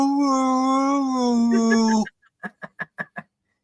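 A small curly-coated mixed-breed dog whines outdoors in a long, sustained, tonal cry that breaks into a run of five short yips, loud and close, with no talk over it.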